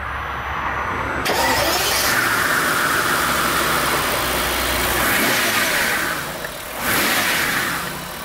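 A Maybach 62S with a 6.0-litre biturbo V12 starts up: a short starter crank, then a smooth, quiet, refined idle that swells briefly as the revs rise, heard close and alone.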